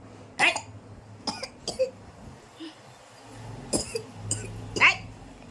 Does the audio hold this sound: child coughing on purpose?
yes